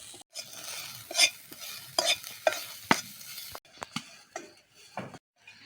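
Onion and garlic frying with salt in a pan over a village cooking fire, with steady sizzling broken by repeated scraping stirs of a spatula against the pan, close and alone.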